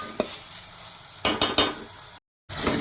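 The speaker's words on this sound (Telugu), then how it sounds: "ఇప్పుడు దీన్ని కూడా మనం పేస్ట్ కూడా బాగా ఫ్రై అయిపోయే వరకు మనం ఫ్రై చేసుకోవాలి." Ginger garlic paste fries in a pan for a mutton gravy curry, giving a steady close sizzle broken by a few sharp scraping stirs, then a brief dead gap before the frying resumes.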